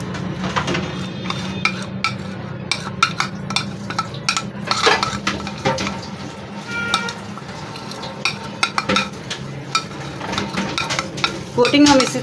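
Fish pieces are mixed by hand or spoon with garlic ginger paste in a bowl or pan, with close wet stirring, clinks of utensils against metal and a faint sizzle beneath, and no voices.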